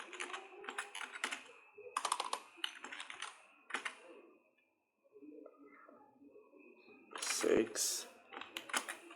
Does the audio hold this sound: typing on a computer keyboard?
yes